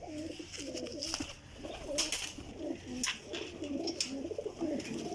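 Several pigeons, including pearl-marked ones, coo repeatedly in soft rolling phrases, close and continuous, with occasional wing flutters and light clatter among the birds.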